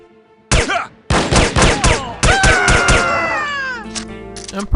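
Phosphorus-round gunfire in No One Lives Forever, a loud sequence of sharp, close shots in uneven bursts. Whining, meow-like tones ring over the shots and slowly trail off.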